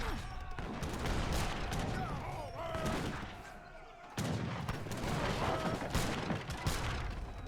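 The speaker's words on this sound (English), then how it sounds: "Decent amount of light cannons are coming in." Light cannons and gunfire in an Age of Empires III match, a steady dense rattle of shots and booms with a brief lull midway before the barrage resumes, a caster's voice faint underneath.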